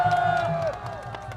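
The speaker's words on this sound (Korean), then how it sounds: "여러분 큰 박수로 한번 격려해 주시겠습니다." A crowd at an outdoor political rally in Gwanghwamun cheers and shouts in a brief, loud burst, with a voice over a loudspeaker briefly above the crowd noise.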